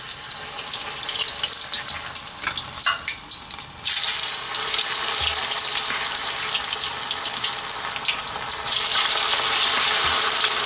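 Chips deep-frying in hot oil for a chip butty, a steady broadband sizzle that turns louder and denser partway through as more go in, with scattered pops and no talk.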